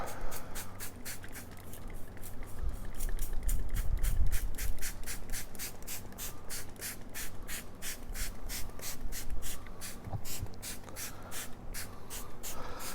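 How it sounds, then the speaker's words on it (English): Rapid, evenly spaced spritzes from a spray bottle onto baby back ribs on a smoker, repeated many times up close, with a soft rustling underneath. "I want to raise them up and spray them."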